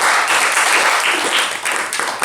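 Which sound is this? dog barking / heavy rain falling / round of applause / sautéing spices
round of applause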